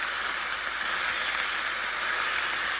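Country-style beef ribs with barbecue sauce sear in a hot pan, giving a steady, loud broadband sizzle and hiss that holds evenly throughout without a break.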